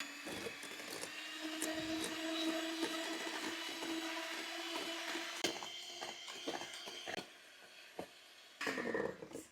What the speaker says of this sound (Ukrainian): Беремо міксер, друзі, збиваємо сметанку 2 хвилини